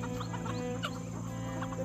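Chickens cluck softly and intermittently on a homestead that also keeps turkeys and ducks, with short scattered calls over a constant low farmyard background, fairly distant and quiet.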